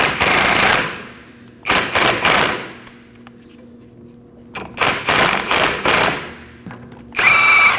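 A power tool with a socket rattles in four loud, close bursts as it removes a bolt on a rear brake caliper of a 2011–2012 Kia Optima. Short quiet gaps separate the bursts.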